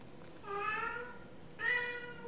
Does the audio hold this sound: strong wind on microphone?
no